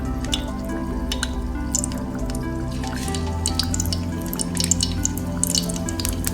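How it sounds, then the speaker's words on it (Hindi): Marinated chicken wings frying in hot ghee oil, a continuous close sizzle with dense crackles and pops over a low steady hum, without talking. "और ये हमारा घी ऑयल गरम है। अब इसके अंदर हम विंग डालते जाएंगे।"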